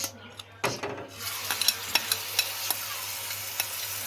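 Chicken pieces go into about two spoons of hot oil in a pan, then are stirred and fried. A low sizzle runs under repeated scraping, clattering strokes of a utensil.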